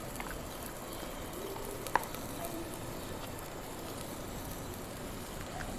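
Potatoes and capsicum fry steadily in a pan as red chili powder goes in, giving a soft continuous sizzle with one brief sharp tap of a spoon, faint and without talking.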